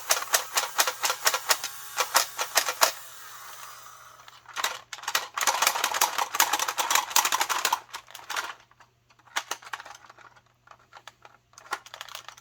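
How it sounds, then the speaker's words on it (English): A thrifted toy Nerf blaster with something lodged in its motor, giving fast rattling clicks in bursts with a whirring grind between them and short pauses. "Sounds like there's something in the motor."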